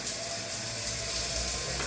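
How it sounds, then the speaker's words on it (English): Water from a shower head streams steadily in a bathroom of an empty apartment in Kampala, Uganda, a continuous hissing spray that holds at an even level, close by, with no voices. "So it has a head shower. It has a hand shower."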